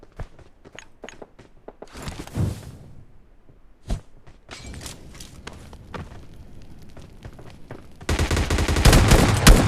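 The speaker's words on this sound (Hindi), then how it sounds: "यहाँ पे 2 ही बुलेट 3 बुलेट में यहाँ पे इनको निपटाते हैं" Gunfire from a PUBG Lite mobile battle royale game: a string of sharp single shots and short bursts, then dense rapid firing at the end, with scattered footsteps and thuds between.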